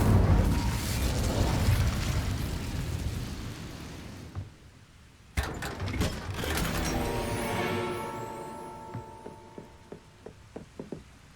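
A fire spell, Incendio, is cast in an open-world wizarding video game: a rushing blaze of crackling roar fades out, then a sharp burst erupts and decays with a string of fading pops and knocks.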